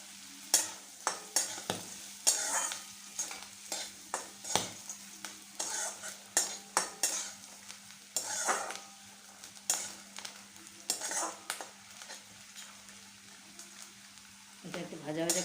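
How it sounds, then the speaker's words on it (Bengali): Two spoonfuls of grated coconut fry in a pan for a taro stem dish, a steady soft sizzle under repeated scraping stirs of a spatula at a quick, uneven rhythm. "এটা একটু ভাজা ভাজা করে নেব।"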